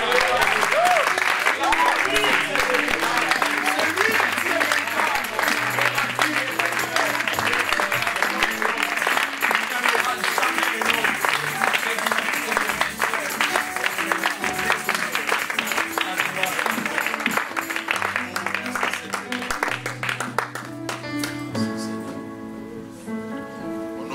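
Church congregation applauds in a long, steady wave of clapping that fills the room, with voices and music tones beneath it, thinning out toward the end.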